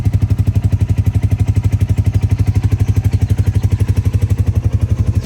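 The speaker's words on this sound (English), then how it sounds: "it definitely has a different exhaust note to it" Royal Enfield Classic 350 idling after a cam change, a loud, close, even thumping exhaust beat repeating rapidly and steadily, with no other sounds.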